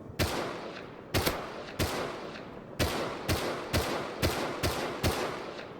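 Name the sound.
SMG gunfire in the video game Rust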